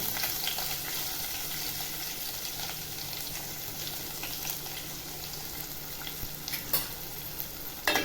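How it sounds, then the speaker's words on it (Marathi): Onion frying in hot oil with cumin and garam masala for veg pulao, a loud, steady sizzle with stirring scrapes running throughout, close up and without talk, a few sharper clinks near the end. "तेलामध्ये आता कांदा टाकते"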